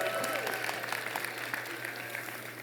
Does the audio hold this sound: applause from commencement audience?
yes